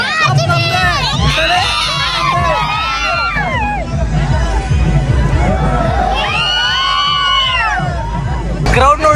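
A big outdoor crowd at the Bhairikoppa village fair in Hubballi, around the temple chariot procession, roars with loud cheering, children's shouts and whoops rising in waves over a constant murmur of voices.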